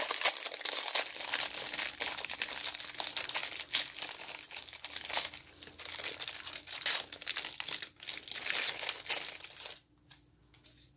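Crinkling plastic wrapper being torn and crumpled open around a fortune cookie, close and busy with irregular crackles, tapering off near the end, no voices.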